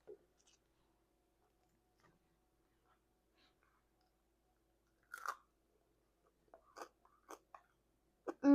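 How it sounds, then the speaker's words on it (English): Walnut cranberry cinnamon bread bitten and chewed close up, with a few sharp crunchy bites and chewing sounds in the second half after a mostly quiet start, ending in a short louder vocal sound. "we're just gonna try just a bite of this delicious bread."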